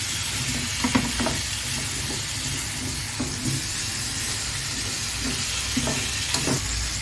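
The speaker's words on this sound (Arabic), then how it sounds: "تشويحه للبصل مع البطاطس والجزر بالتوابل" Onion, potatoes and carrots sauté with spices in a pan, a steady sizzle and hiss running throughout with occasional soft clinks and stirring scrapes, close and continuous.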